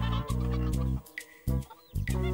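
Cartoon chicken clucking in a few loud, stacked bursts with short pauses between, alongside a rural farm scene with a donkey.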